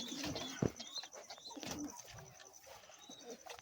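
Pet pigeons coo and stir restlessly at feeding time, soft throaty calls repeating close by with faint rustling and a brief thud, fairly quiet throughout.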